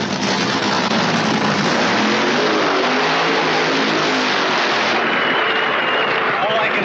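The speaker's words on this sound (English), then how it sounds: "Paula's adversary, Don Schumacher, fires up for his burnout and qualifying run." A supercharged, injected funny car fires up at a drag strip in England, its engine roaring loud and steady throughout, with crowd noise mixed in.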